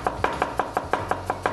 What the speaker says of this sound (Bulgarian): Нарязвам го на тънки филийки